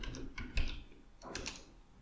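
Someone types a web address on a computer keyboard: a few quick bursts of close, crisp keystrokes in a quiet room, with no talking.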